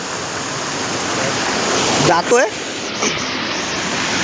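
A Konkan waterfall roars as a steady, broad rush of falling water close by, with someone speaking briefly over it partway through.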